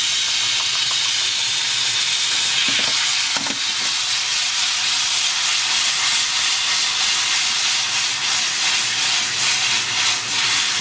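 Food sizzling steadily in a frying pan, a loud, unbroken hiss and crackle close by, with a couple of brief clatters from the pan partway through.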